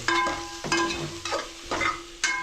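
Cumin seeds sizzle in hot oil in a pan for a chicken curry, stirred in several scraping strokes with a steady frying hiss between them, close and clear with no talk.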